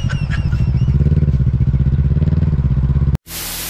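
A motorcycle engine runs close by in a rapid, even, pulsing idle for about three seconds, then cuts off abruptly into a burst of noise.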